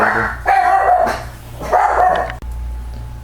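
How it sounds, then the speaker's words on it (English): A dog barks loudly at someone passing the door, in two close bursts of yapping barks with a short gap between them, then a sharp thump and quiet room noise. "Someone walked by the door. Dog's freaked out."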